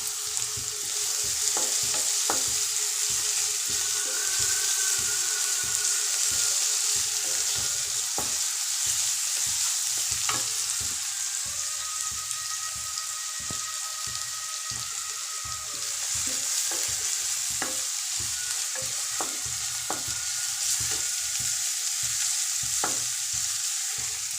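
Sorrel leaves sautéing in a pan for village-style keerai kadaiyal, a steady close sizzle and frying hiss with repeated stirring scrapes throughout, no talk.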